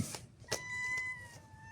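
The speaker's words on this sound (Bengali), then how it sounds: "আমার আবার বিড়াল কান্না করলে ভালো ভালো লাগে না" A cat meows once or twice nearby, a brief plaintive cry against a faint steady whine in the background.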